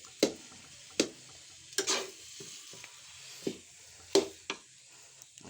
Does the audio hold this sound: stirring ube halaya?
yes